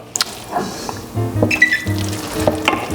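Leek and arugula risotto simmering in a pan bubbles and pops softly, with clinks and short scraping stirs at close range.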